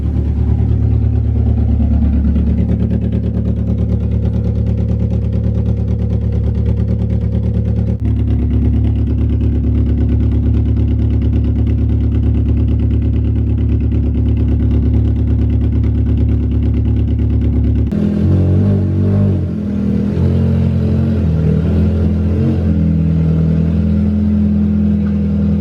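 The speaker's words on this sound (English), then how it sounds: "my exhaust got rusted and it was leaking" A 1999 Hyundai Tiburon engine runs steadily through a rusted, leaking exhaust, giving a continuous droning idle with a raspy edge that shifts abruptly in tone partway through, with no voices.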